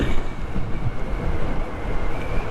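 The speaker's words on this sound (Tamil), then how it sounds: "காற்று ஓவராக அடிக்குது." Strong wind buffeting a GoPro Hero 10 microphone during a motorcycle ride, a loud continuous low rumble and roar with gusty fluctuations and no speech.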